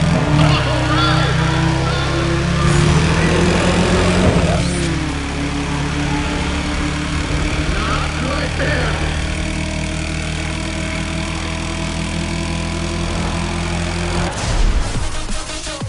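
Engine idling in the racing game Need for Speed ProStreet, a steady low drone with a louder rougher stretch in the opening seconds and a brief rise near the end, under a voice talking.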